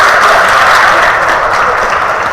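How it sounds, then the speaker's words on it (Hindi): A group at a morning yoga session at a polytechnic claps hands loudly together, making a dense, continuous patter that stays strong and steady throughout, with no voices over it. "ताली बजाना है जोर से।"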